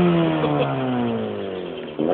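A Honda CRX engine revs hard, its pitch sweeping down steadily over about two seconds before a sharp jump back up near the end, loud and close with no talking.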